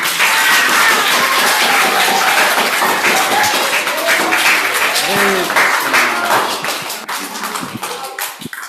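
A gathering applauds the children after a Bhagavatam katha chanting session, loud sustained clapping with a few voices underneath that gradually thins toward the end.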